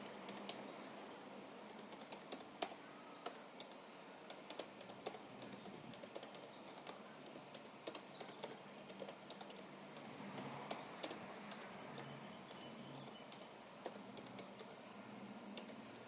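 Someone types a chart subtitle in SPSS on a computer keyboard, producing soft, irregular key clicks in uneven bursts over a quiet background.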